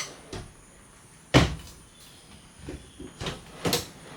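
Small drawers in a travel trailer kitchen, a 2023 East to West Alta LE 1600 MRB, pulled open and pushed shut, giving several sharp wooden clunks and slides, one loud knock near the middle and a few softer ones after.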